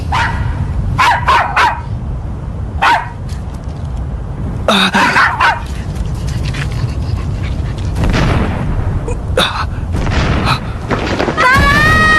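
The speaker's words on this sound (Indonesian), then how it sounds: "Suara gonggongan itu." Dog barking repeatedly in sharp, loud bursts with some yips and whimpers, spaced irregularly over a low rumbling background from an Indonesian-dubbed Ultraman Mebius movie.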